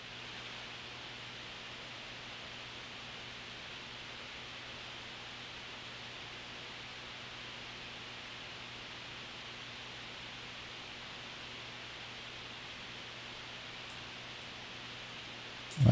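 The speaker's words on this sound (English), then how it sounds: "mix between like white noise and radio static" A synthesizer patch on an Iridium producing steady colored noise like a blend of white noise and radio static, a constant even hiss with a low hum underneath, held unchanged throughout with no voices.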